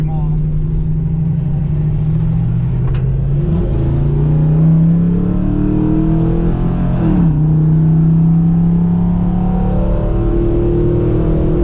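A restored 1972 Chevy C10 pickup accelerates on a test drive, its engine droning loud and steady from inside the cab, pitch climbing through gear changes with two audible shifts.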